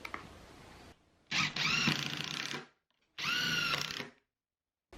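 A power drill drives 2-inch screws into a playhouse roof truss in two loud, close bursts of about a second and a half each, with a whining motor and a quiet pause between them.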